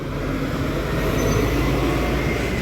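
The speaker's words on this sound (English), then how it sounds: "So there's our tram 21, which we'll be getting on." Tram number 21 in Sofia rumbles past close by outdoors, a steady, dense, loud mechanical roar filling the whole stretch without any talking.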